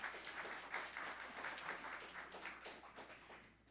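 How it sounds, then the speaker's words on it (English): Audience applause for a rabbi at a Shabbat service in a synagogue, a steady wash of many hands clapping that holds for several seconds and fades slightly toward the end. "a big applause for Rabbi Joseph"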